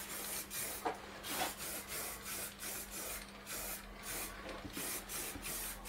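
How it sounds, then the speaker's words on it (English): Layout ink sprayed from a can onto metal parts during a Wadkin planer repair outdoors, a series of short hissing bursts in an irregular rhythm, fairly close. "So we've got some layout ink. I'm just giving it a light coating of that."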